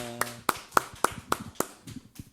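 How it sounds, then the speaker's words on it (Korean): A small church congregation claps during an online Sunday worship service, with about seven distinct, fairly faint claps in a loose rhythm that thin out toward the end. "우리 영광의 박수를 하나님께 함께 올려드리십시다."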